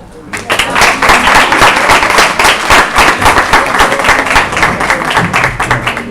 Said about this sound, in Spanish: Otro aplauso para ver.